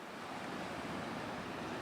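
Ocean water surges far below a hole in rock on New Zealand's South Island, a broad, steady wash of surf mixed with wind noise.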